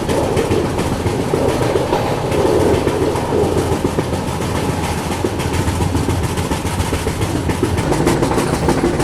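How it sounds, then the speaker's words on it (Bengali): Kerala Sampark Kranti Express rolling along the Konkan Railway into Goa in heavy monsoon rain, a steady loud rumble with continuous clickety-clack of wheels over rail joints and no voices. "আমাদের ট্রেন ঢুকে গেছে মহারাষ্ট্র ছেড়ে গোয়া রাজ্যের"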